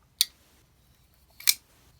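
A WE Ferrum Forge Malice folding knife snaps open and shut in two crisp clicks roughly a second apart, quiet and close with no talking.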